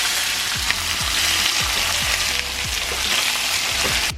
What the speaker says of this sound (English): whilst your chicken thighs are sizzling away over there